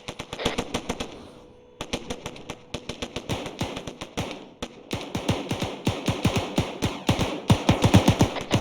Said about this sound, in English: A lot of shots east, southeast.